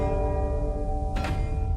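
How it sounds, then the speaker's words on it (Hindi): A holy bell in an animated fantasy story rings with a sustained tone, followed by a brief bright shimmering strike near the end, with no voices. "घंटी 2 बार बजी।"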